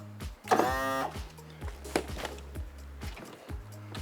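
An outboard motor's power trim tilts the motor down with short bursts of electric motor whine and hum, close and fairly quiet, stopping and starting several times over a few seconds.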